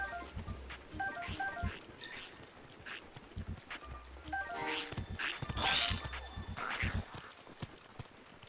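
Horse hooves clip-clop in Zelda: Breath of the Wild, steady walking steps close by with snorts and a short whinny over ambient game sounds.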